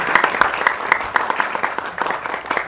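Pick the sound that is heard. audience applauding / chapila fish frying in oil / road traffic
audience applauding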